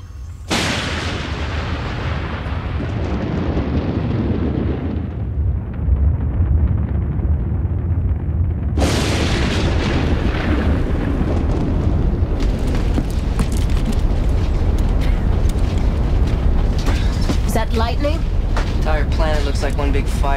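Firefight in a TV battle scene, with booming artillery-like blasts and gunfire rolling continuously, loud and close throughout, with a sharp new burst of shooting and explosions midway and talk mixed in.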